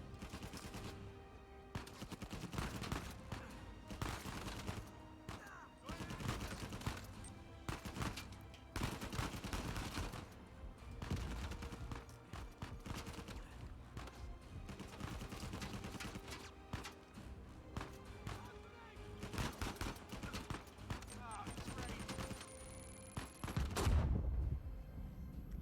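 Gunfire in the video game Uncharted crackles in rapid, dense volleys of sharp shots, some close and loud, others fainter, continuing almost without a break for about twenty-five seconds.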